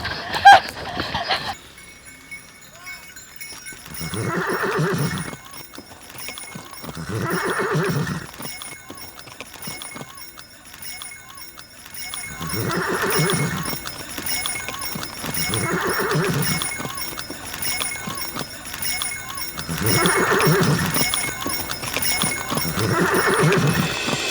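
Horses neigh in repeated loud whinnies at a steady pace amid clip-clopping hooves and some clinking during a chase scene in an Indonesian drama, and the calls continue through the whole stretch.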